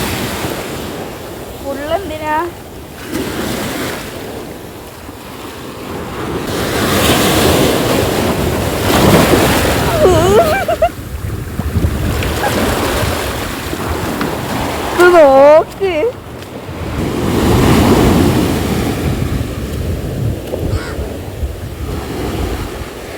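Sea waves break and wash up a shore where seawater is being collected to make salt, rising and falling in long surges with heavy wind rumble while a person talks now and then.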